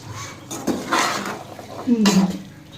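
A spoon scrapes and clinks in a cooking pot as dal chana is stirred, with a few metallic knocks and scraping strokes while someone speaks.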